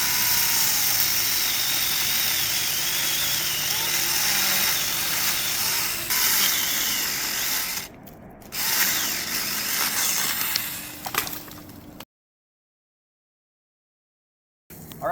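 A Saker Mini electric chainsaw runs loud and close while cutting through dead black oak hardwood, its steady high whine briefly dipping mid-cut before stopping abruptly, then a short restart.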